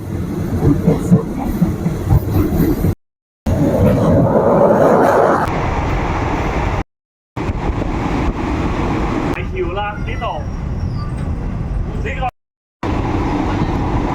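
A train from Bangkok Noi station rumbles along the rails toward Kanchanaburi with a continuous rattling roar, cut by brief silences, while someone talks over it.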